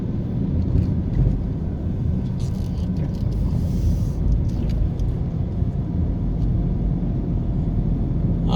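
Steady low rumble of a car driving along city roads in New Kingston, a continuous even engine and road drone, close and without talk.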